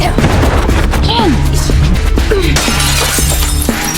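A glass door pane smashed in a film action scene, a loud shattering crash layered under dramatic music and scattered impacts, with tinkling fragments continuing throughout.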